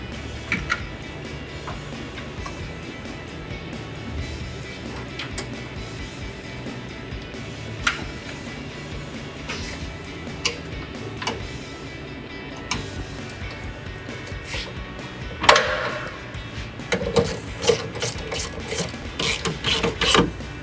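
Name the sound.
tightening 10mm bolts on a Sierra 1500 headlight install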